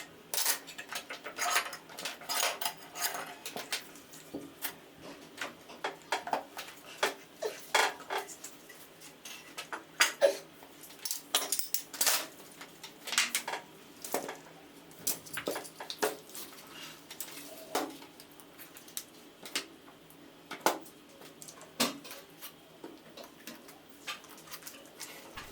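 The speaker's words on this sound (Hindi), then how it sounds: "उसके बाद एक स्पैनर की मदद से इस नट को अच्छी तरह से टाइट कर दें" A spanner tightens the armature nut of an angle grinder, with the armature wrapped in cloth and clamped in a vise. Close, sharp metallic clicks and taps come in irregular bursts throughout, with no talking.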